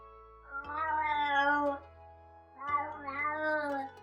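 A cat meows twice in long, drawn-out, vocal calls, close and loud, with a short pause between them and no other voices.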